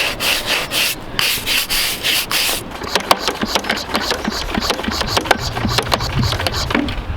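A school wall is scrubbed clean before a mural is painted, with loud, rhythmic rubbing strokes up close, followed by a running engine and continued scraping and washing noise.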